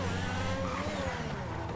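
A gold Lamborghini sports car engine in GTA 5 drones and revs continuously, with a racing-game feel and faint tire noise, no talking.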